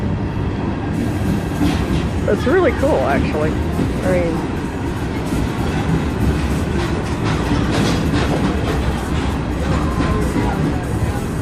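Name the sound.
train passing through town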